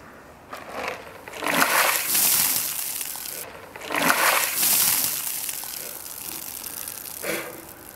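Ice water is dumped from a bucket over a person for the ALS Ice Bucket Challenge, heard as a few loud splashing, crashing bursts with the ice clattering, and quieter gaps in between.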